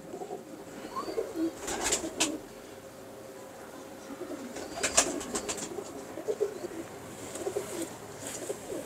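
Pigeons coo softly in low, throaty bursts, with a few sharper flutters and chirps over a quiet background hum.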